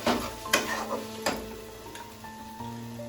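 Water poured into hot fried spice paste in a pan sets off a loud, close sizzle with sharp bursts and spoon stirring, fading to a softer simmer; no one speaks.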